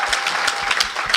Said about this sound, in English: can we just applaud? Give an applaud